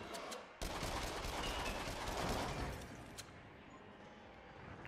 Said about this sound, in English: the one that fires multiple bullets at one time. That's my Uzi.